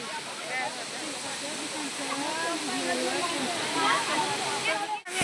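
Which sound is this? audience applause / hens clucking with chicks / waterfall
waterfall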